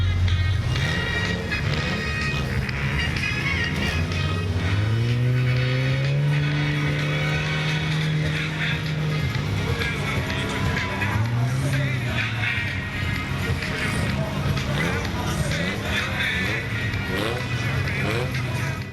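Engines roar steadily at a figure 8 race with a double-ended car at an agricultural fair, pitch rising and falling as cars rev and pass. Music and talk run over the engine noise throughout.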